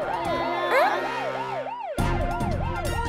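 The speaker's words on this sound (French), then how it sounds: "Laissez passer l'ambulance" Cartoon ambulance siren wailing in a steady two-tone rise and fall, loud and close throughout, with a brief dip near the middle before it resumes at full strength.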